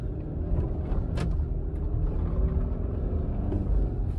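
A car on Michelin X-Ice snow tires pulls away from a stop at half throttle in a parking lot, a steady low engine rumble with road and tire noise running continuously at moderate volume, no voices.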